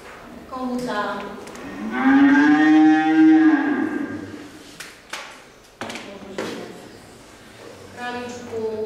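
A cow moos once as a played sound effect, a long clear low call that swells and fades, with brief bits of other sound and a voice before and after it.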